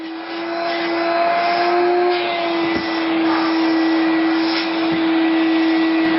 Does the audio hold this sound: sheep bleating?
no